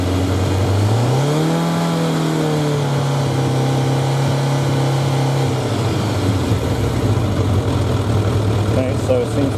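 Suzuki 1100G motorcycle engine revving briefly near two seconds, then settling into a steady, loud idle with a slight drop in pitch, heard close up.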